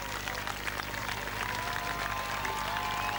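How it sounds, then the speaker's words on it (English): Steady applause from a crowd at the 1986 All Ireland Triathlon as a competitor finishes fills the whole stretch, dense and continuous at an even level. "coming to the acclaim and the applause"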